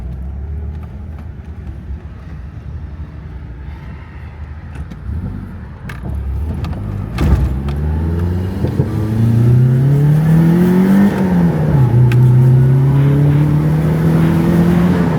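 A Nissan Skyline R34 engine revs up steadily, its pitch climbing and dipping through several surges, loud and close with a fairly mellow stock exhaust note; no talking.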